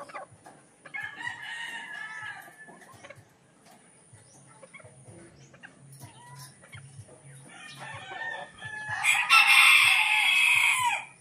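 Chickens and roosters at a game farm in Bauang, La Union, cluck and call throughout, with a loud rooster crow bursting out near the end, close by.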